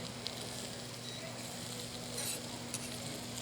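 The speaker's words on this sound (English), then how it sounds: "Ooh, it's sizzling." Garlic in olive oil sizzles softly in a pan, a steady faint crackle with an occasional light clink of a utensil, close by and without talk.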